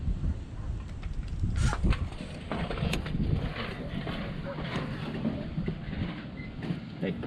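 Steady rushing wind buffets the microphone outdoors during work on a 1967 VW Beetle, with low rumbling gusts and a few sharp clicks.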